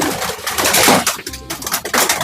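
Pigeons crowded in a loft, with a coo heard among rustling and flapping near the camera, plus a short rattling clatter as a tent cover is opened.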